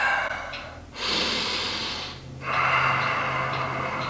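Slow, deep yoga breaths during a guided meditation session: two long, airy inhale-exhale swells, close and fairly loud, with no talking.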